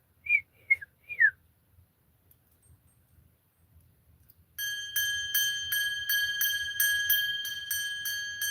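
A person whistles three short, rising notes in quick succession against near silence. After a pause, a brighter run of evenly spaced bell-like ringing tones follows.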